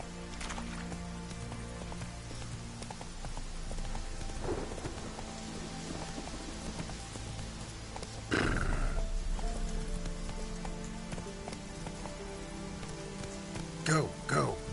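Roach the horse ridden through rain in The Witcher 3, steady rainfall pattering throughout with hoof and tack movement, a louder surge midway and a faint whinny near the end.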